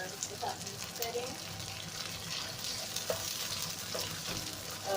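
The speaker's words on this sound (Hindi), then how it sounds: "अब हम इसमें डालेंगे अदरक लहसुन का पेस्ट" Sliced onions with ginger garlic paste fry in a pan for a keema dish, a steady, close sizzle with a spoon stirring and scraping through it.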